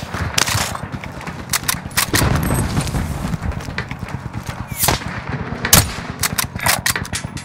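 Rapid bursts of gunfire from Call of Duty: Modern Warfare, dense repeated shots with sharp loud cracks scattered through, a near firefight that carries on without pause.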